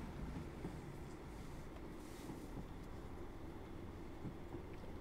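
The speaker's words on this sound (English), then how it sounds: "The jointed track. I thought it'd be quite nice to hear that." A Class 156 Sprinter diesel unit in Train Simulator 2022 runs over jointed track on the Wherry Lines between Lowestoft and Norwich: a steady, faint low rumble with a few soft, irregular clacks.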